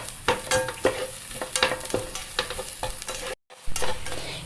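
Grated coconut roasts in a pan over medium-low flame for a koorka theeyal, with a spatula scraping and stirring in a quick, repeated rhythm over a light sizzle, briefly cut off near the end.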